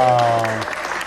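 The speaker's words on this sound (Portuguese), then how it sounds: "Salva de palmas." Applause breaks out as a sustained held note ends in IZA's song Dona de Mim, a dense patter of clapping that carries on by itself for about a second.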